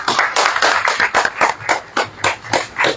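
Audience applause at a book presentation in Spain-language literary event, a steady crowd clapping with rhythmic swells, moderately loud and close, no voices over it.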